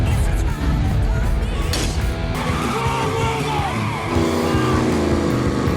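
Sports car roaring through a film chase scene, engine noise and tire squeal running loud and continuous under dramatic music, with occasional shouting mixed in.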